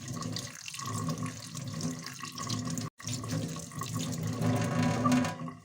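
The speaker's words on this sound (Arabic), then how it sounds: "انا فاتحه كده الميه زي ما انتم شايفين كده." Water running from a tap into a sink while clothes are washed, a steady close splashing stream with a brief break near the middle before it flows on again.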